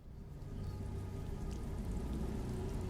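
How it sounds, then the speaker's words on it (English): Steady rain pattering down in a video game, a soft continuous wash of droplets with a low rumbling background, fairly quiet and with no talking. "Oh no, it's raining."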